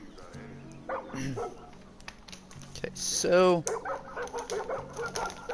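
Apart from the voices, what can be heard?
dog barking in the video game Far Cry New Dawn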